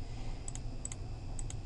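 Faint, sparse clicks of keys on a computer keyboard as a spreadsheet formula is typed, a few light taps in small pairs over a steady low hum.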